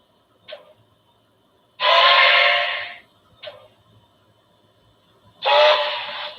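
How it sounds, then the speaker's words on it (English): Two long steam train whistle blasts ring out loud and alone, each preceded by a short toot, the pairs spaced a few seconds apart with quiet between. "The long whistle seems to be the same for both sounds."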